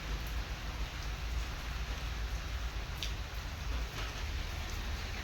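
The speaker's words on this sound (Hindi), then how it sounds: "तो बारिश फिर हो गई है स्टार्ट, और जोरों की हो रही है बारिश।" Heavy rain pours steadily outdoors, a dense, even hiss of drops that holds unbroken from start to finish.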